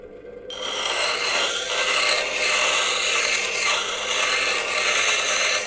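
A bench grinding wheel shapes the bevel on a new woodturning gouge, giving a steady, loud, continuous rasping grind of steel on the abrasive wheel that runs unbroken after a brief quieter start.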